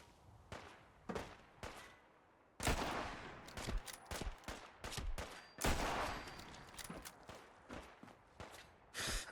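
Rapid heavy rifle shots from an anti-materiel rifle in Fallout 4, several loud sharp bursts with ringing tails, some clustered like a volley, interspersed with footsteps and breathy grunts.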